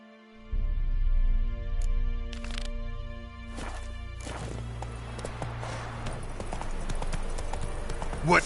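Roach, a horse in The Witcher 3, clip-clops at a walking pace, steady hoofbeats close by and fairly loud under game music, with brief bursts of other noise.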